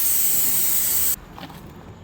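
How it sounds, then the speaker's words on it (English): Air hisses loudly and steadily from the valve of a car tire holding a massive nail as it is deflated, then cuts off abruptly partway through, leaving faint low rustling. "I'll deflate this as much as I can"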